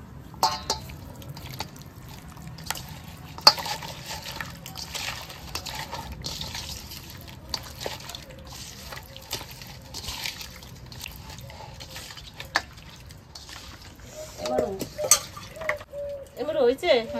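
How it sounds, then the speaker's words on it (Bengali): Shankar fish being hand-mixed with mustard oil and spices, soft wet squelching and slapping of oily flesh in a bowl with occasional clinks, rising near the end, under a quiet room. "এবার মাছটাকে আমি সুন্দর করে মেখে নেব।"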